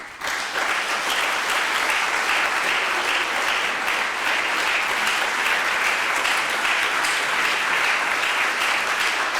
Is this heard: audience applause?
yes